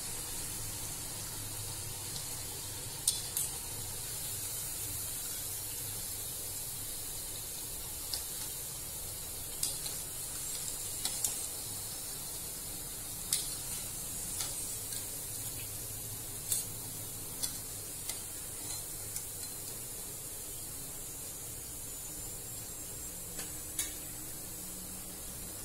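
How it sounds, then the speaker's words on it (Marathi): Khandeshi batti dough balls fry in oil with a soft, even hiss and sparse, quick pops and ticks scattered throughout. The sound is quiet and steady, with no voices. "आता आपण तळूया"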